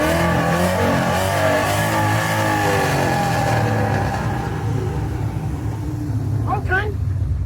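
A boosted 2017 Ford Mustang revs loud and close, its engine roaring and rising in pitch, then settling into a rough, heavy idle, with a voice talking over parts of it.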